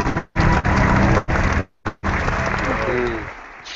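A crowd breaks into loud, close applause in several bursts with brief gaps between them, and the clapping trails off at the end.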